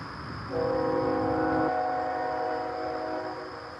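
A BNSF freight oil train passes at a distance, its horn sounding a sustained chord over a steady low rumble of the cars.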